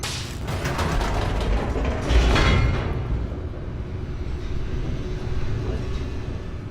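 An elevator in The Stanley Parable descending deeper into a building gives a mechanical rumble with clanking and a heavier thud early on, then settles into a low, steady hum that continues alone.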